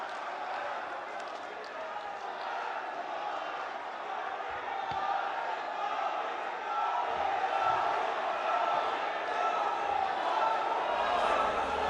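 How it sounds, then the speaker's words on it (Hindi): A large crowd at a public event in Begusarai, Bihar, applauds to welcome the Prime Minister: a loud, continuous wash of clapping and cheering that swells slightly midway, with voices mixed in. "दोनों हाथ ऊपर करके जोरदार तालियों के साथ स्वागत करें हमारे माननीय प्रधानमंत्री जी का"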